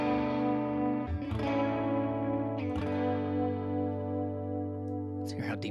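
Electric guitar through a Neural DSP Tone King Imperial with a fully wet stereo chorus, sustained chords ringing with a shimmering, wavering modulation, re-struck twice with a brief pick scrape near the end.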